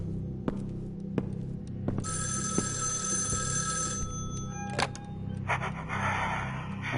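Telephone in the horror video game Evil Inside ringing in two long electronic bursts over a steady low hum, with a few dull thuds before and after.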